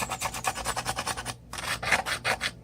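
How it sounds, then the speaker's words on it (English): A hand file rasps along a channel edge of a 3D print, making rapid rhythmic back-and-forth strokes, close and crisp, with a brief pause midway before the strokes resume. "And this file fits perfectly in this one. Sharpen this edge up."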